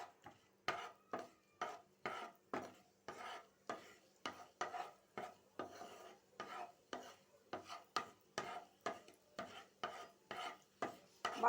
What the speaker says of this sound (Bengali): এবারে আমি 2টো এলাচ, 2টো লবঙ্গ আর একটু দারচিনি, একটু থেতে এর মধ্যে ফোড়ন দিচ্ছি।